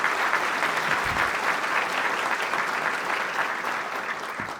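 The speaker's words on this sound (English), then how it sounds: "please join me in a big round of applause for all of our sponsors" A room of guests at the 2024 City of Suffolk State of the City event gives a sustained round of applause, dense steady clapping that slowly fades toward the end.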